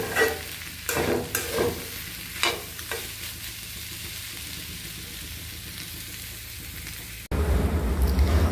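Bitter gourd (ucche) fries in a karai and is stirred, with scraping spatula strokes over a steady close sizzle early on, then a continuous fry; no talking.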